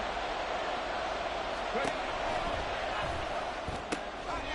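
Football stadium crowd roaring steadily ahead of a big third down, a dense continuous swell of noise with a few sharp thumps and a voice talking over it.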